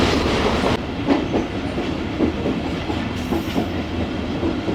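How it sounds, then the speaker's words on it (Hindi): Tezgam passenger train rolling through Punjab toward Khanpur, heard from inside an economy-class coach: steady rumbling with rhythmic clickety-clack of the wheels over rail joints. "खानपुर से पहले ट्रेन हमारी डेस्टिनेटेड स्पीड को फॉलो करते हुए आगे बढ़ रही है जी"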